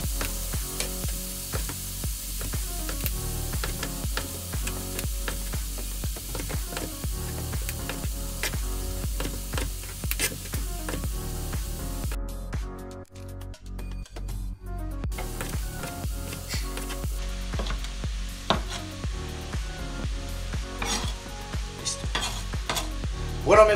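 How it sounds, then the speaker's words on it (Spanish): Beef, bacon and sausage for tacos de alambre sizzle as they brown in a pan, a continuous loud frying hiss broken by rapid spatula scrapes and clicks, with a brief quiet gap midway. "se la integramos a la carne con el tocino y seguimos aquí dorándolo"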